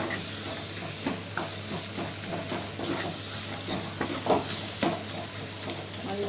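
Onions and tomatoes frying in oil for prawn masala gravy, a dense continuous sizzle with irregular stirring scrapes, close and steady, no one speaking.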